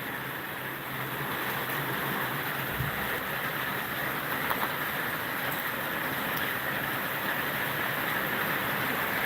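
Heavy rain from a sudden storm pours into a backyard, a steady, dense broadband roar with no let-up across the whole stretch and no voices.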